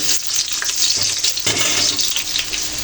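Chopped onion sizzles in hot oil in a pan, a bright steady frying hiss with a few stirring scrapes, close and loud throughout with no talk.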